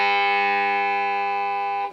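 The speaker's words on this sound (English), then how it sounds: "that's a pure major third" A distorted electric guitar sustains a pure, in-tune major third, a steady rich buzzing tone without beating that holds loud and even before cutting off.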